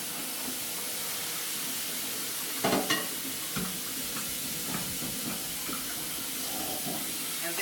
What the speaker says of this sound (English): I'm going to just put a little cold water over them.